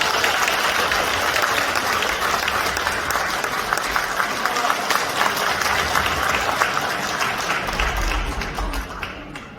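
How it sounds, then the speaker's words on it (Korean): Audience at a party members' training session in a civil defense education hall applauding a city mayor's arrival, a sustained dense clapping from a large crowd, loud and even, tapering slightly at the end. "여러분 큰 박수로 환영해 주십시오."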